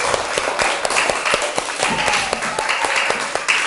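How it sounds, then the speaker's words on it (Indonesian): Schoolchildren in a classroom clap their hands together, a dense, steady patter of many small claps filling the room with a murmur of voices underneath. "Jadi mari kita beri tepuk tangan untuk kita punya diri."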